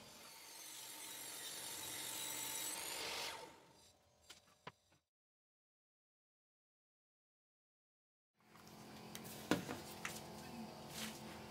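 Chipboard panel cut along a clamped straightedge, a steady close rasping saw drone for about three seconds, then a few clicks, a stretch of silence and renewed mechanical clatter with sharp knocks.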